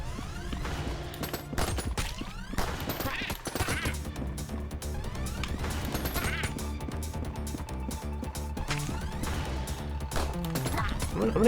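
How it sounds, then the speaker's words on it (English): A Gatling gun firing in the game ANNO: Mutationem, long rapid sustained bursts of gunfire layered over busy game music and effects. "I don't think that's as cool as this ridiculous Gatling gun"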